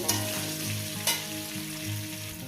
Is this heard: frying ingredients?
yes